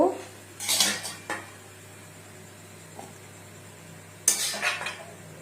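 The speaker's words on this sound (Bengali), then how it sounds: "এটাও তরকারি তুলে নিচ্ছি" Plates and cutlery clink in two short bursts as a curry of tomato, potato, green chilli and capsicum is spooned onto a plate at dinner, with a quiet gap between the clatters.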